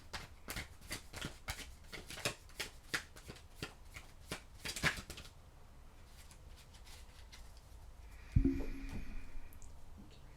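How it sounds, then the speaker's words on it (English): A deck of oracle cards is shuffled by hand in quick, repeated riffling bursts for several seconds, then goes quiet before a single sharp tap near the end; close and fairly faint. "So let's get your last oracle card."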